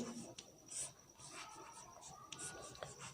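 Chalk scratching across a classroom board during a Hindi grammar lesson, a run of light scrapes and taps close by, with faint talk in the background.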